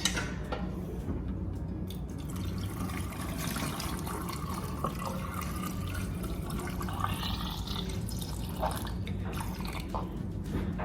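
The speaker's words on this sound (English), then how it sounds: "I'm going to pour my salt brine into the jar." Salt brine pours into a jar packed with cucumbers, a soft continuous trickling and gurgling of liquid that runs steadily throughout at a quiet level.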